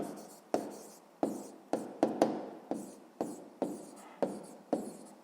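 Pen strokes on paper while writing out a sixth-grade math solution: a steady run of about ten short taps and scratches, close and quiet, with no speech.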